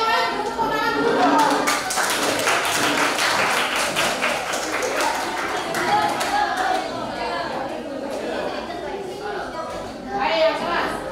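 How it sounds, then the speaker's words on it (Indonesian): A group of children in a classroom claps hands in a lively, uneven burst, with chatter and voices mixed in, the clapping strongest early and tapering off. "Ayo yang lain tepuk tangan dulu."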